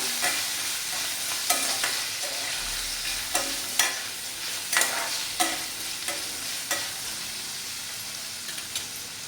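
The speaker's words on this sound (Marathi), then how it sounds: "बघा कांदा काजू मिरची आणि लसूण आणि आलं छान असा ब्राऊन कलर त्याला येईपर्यंत आपण परतून घ्यायचा आहे" Onion, cashews, green chilies, garlic and ginger fry in a pan until browned, a loud steady sizzle broken by repeated sharp scrapes of a spatula stirring every second or so.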